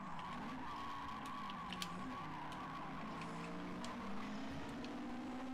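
Car in GT Sport braking hard into a corner, a continuous engine drone with tire squeal layered on top, steady and loud throughout with no talking.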